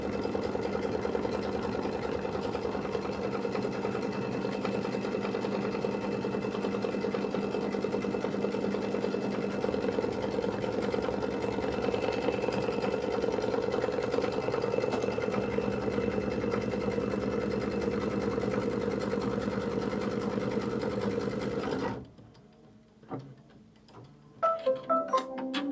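A sewing machine quilts a Kimberbell jelly tote insert, a steady close rapid ticking hum running evenly for over twenty seconds before stopping, followed by a few faint clicks and handling sounds.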